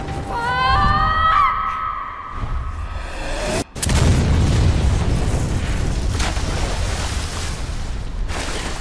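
A loud explosive blast erupts in the video game Resident Evil Revelations 2 as a factory's self-destruct system triggers, after a brief silence, followed by a sustained roaring rumble of debris and fire, with synthetic tones ringing out beforehand.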